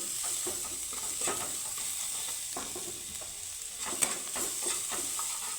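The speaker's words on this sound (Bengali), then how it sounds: "মশলাটাকে একটু নাড়িয়ে চাড়িয়ে নিব" Spices and chili powder fry in a pan while a spoon stirs them, giving a soft continuous sizzle broken by repeated scraping strokes and a sharp clink near the end, without talk.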